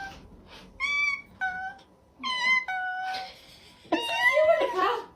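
A house cat meows several times in short, clear calls, a few close together with brief pauses, followed by a louder, rougher wail near the end.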